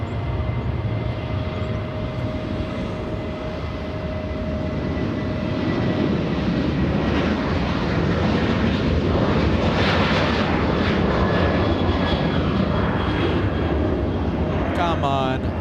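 Jet engines of a Boeing 747 airliner roar at Los Angeles International Airport, a broad sustained rumble that builds and holds loud, with thin engine whine tones riding on top.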